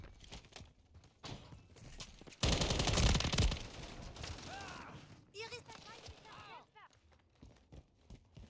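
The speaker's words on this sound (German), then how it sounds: "Stehe unter Beschuss." Gunfire in the video game Call of Duty Modern Warfare 3, with rapid bursts and a loud dense volley of shots, mixed with game effects and voices talking throughout.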